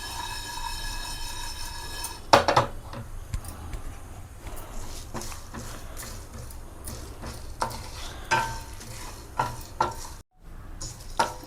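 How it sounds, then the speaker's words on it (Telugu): Spices dry-roasting in a pan are stirred with repeated scraping and clattering strokes and a faint background sizzle, with a sharp metallic knock early and a brief drop to silence near the end. "ఇవన్నీ వేయించి కొంచెం దోరగా వేయించి పొడి కొట్టుకోవాలి."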